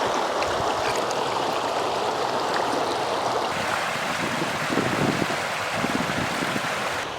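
Running water pours steadily outdoors as hands are washed during outdoor cooking, a continuous close rushing splash with no voices.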